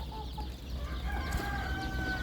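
Young egg-laying chicks peep in short, high, thin chirps from a nearby group, over a constant low background hum.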